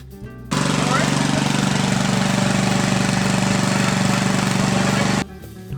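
A car engine retrofitted with a DIY Thunderstorm Generator runs close and loud, starting abruptly after a quiet moment, then holding a steady, buzzing, rapidly pulsing drone for about five seconds before cutting off.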